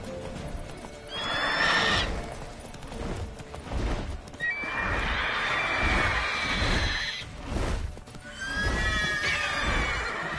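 A horse in The Witcher 3 video game whinnies loudly several times over steady clip-clop hoofbeats at a gallop, the neighs rising and falling close by.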